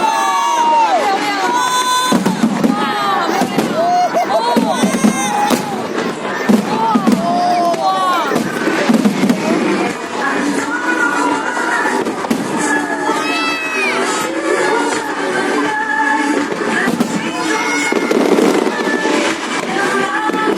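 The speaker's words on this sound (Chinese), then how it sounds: "大家开始放烟火呀！" Fireworks at a festival in Penghu, with rapid crackling bursts and whistles over a large cheering, shouting crowd, loud and continuous throughout.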